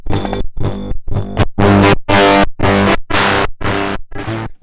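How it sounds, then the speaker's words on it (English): A tube-powered Eurorack modular synth built around a Metasonix RK-2 VCA runs a loud, distorted fuzzy tone, pulsed on and off by tremolo into about ten evenly spaced chopped bursts, with a cowbell-like metallic ring in the first few. "Tremolo plus cowbell."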